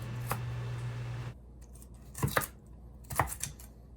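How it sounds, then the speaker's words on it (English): Sharp knife cuts from a cheap VG10 steel chef's knife chopping food on a board, a few irregular close taps and crunches after a brief low hum, moderately loud. "I'm just randomly chopping it up into bits"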